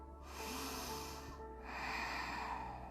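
Two slow, deep inhalations through the nose during a yoga session focused on the glute muscles, airy and faint, close to the microphone with a short pause between breaths.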